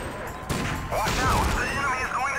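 Gunfire in the arcade sniper game Silent Scope played on a PS2 emulator, with a sharp broadband burst near the start and dense game sound effects and music continuing throughout.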